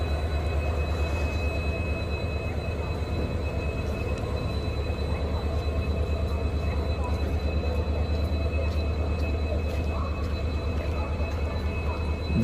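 A light locomotive picking up speed on an Indian railway line, a loud, continuous low rumble and rolling drone that holds steady from start to finish.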